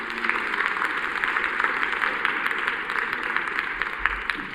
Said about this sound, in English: So if you give them a round of applause too, we're so grateful